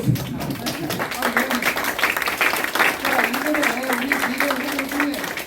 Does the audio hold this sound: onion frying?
no